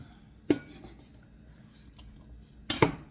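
A kitchen knife chops an onion on a board, making two sharp, isolated knocks about two seconds apart with quiet room tone between them.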